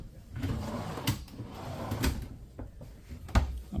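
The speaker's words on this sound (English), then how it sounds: "Nice flat pull-out drawers. Soft closing everything. More pull-out drawers." Soft-closing pull-out drawers in a luxury DRV Houston fifth wheel RV slide and settle shut, several muffled thumps and sliding rumbles in close succession.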